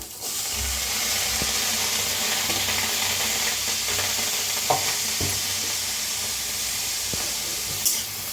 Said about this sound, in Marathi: छान असं पहिलं भाजूया, नंतर ना तेल ओतून भाजायचं।